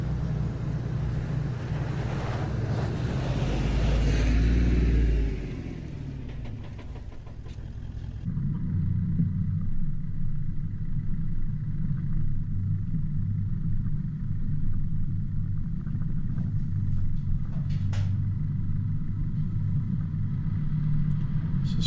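A Toyota Troopy four-wheel drive grinds along a deep rutted dirt track, its engine a low steady rumble that eases briefly, then resumes, with wind buffeting the microphone throughout.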